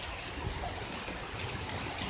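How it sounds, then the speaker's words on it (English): Rainwater drips and trickles off plants beside a lake during monsoon rains, making a dense, steady watery hiss with no pauses throughout. "Damn plants are leaking water like hell over here"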